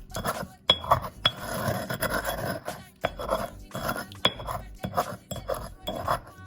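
Ingredients for a salmon poke bowl being mixed in a bowl, with repeated close clinks and scrapes of a utensil against the dish in uneven bursts, fairly quiet with no talking.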